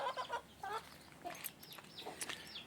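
Thin, high peeping calls from newly hatched chicks, repeated in quick irregular bursts, fairly quiet and close.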